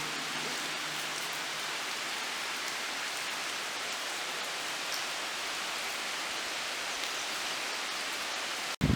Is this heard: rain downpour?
yes